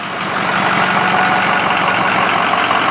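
Ford F550 work truck engine idling nearby, a steady, loud, even rumble with a constant mechanical hum and no variation over a few seconds, with no voices.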